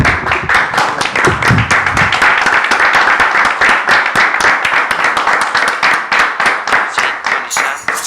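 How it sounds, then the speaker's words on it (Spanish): A small audience in a radio studio claps steadily for several seconds, dense, fairly close hand claps that thin out near the end, with no talking over them. "Un aplauso."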